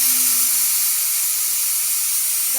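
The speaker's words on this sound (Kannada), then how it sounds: "ಈಗ ವಿಸಿಲ್ ಬಂತು" Pressure cooker on a home stove venting steam, with a steady, loud hiss that holds unbroken for a few seconds, no voices over it.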